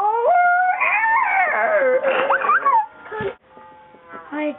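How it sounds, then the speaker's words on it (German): A dog howls in long, rising and falling wails with a few whimpering yips, close and loud, with no other sounds around it. "Hund!"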